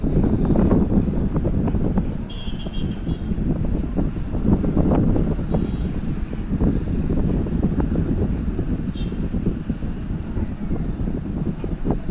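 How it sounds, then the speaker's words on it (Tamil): An Air India Express airliner lands at Trivandrum's airport, heard from a non-AC double-decker city bus as a loud, steady engine roar mixed with strong wind rush throughout. "ஸோ ஒரு ஃப்ளைட் லேண்ட் ஆகுது."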